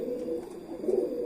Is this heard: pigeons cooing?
yes